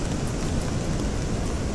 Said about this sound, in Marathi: बारीक बारीक पाऊस आहे मस्त वाला